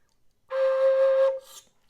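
A D whistle plays first-octave C natural with an alternate fingering, a single steady clear tone held for just under a second with a brief breathy tail, alone and fairly loud.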